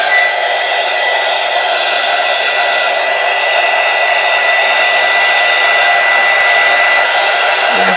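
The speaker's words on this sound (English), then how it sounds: "we're going to take our heat gun, and I'm just going to kind of blow that around" Heat gun blowing steadily close over UV resin on a cutting board sample, a continuous loud whooshing hiss of airflow holding even for the whole stretch with no talk.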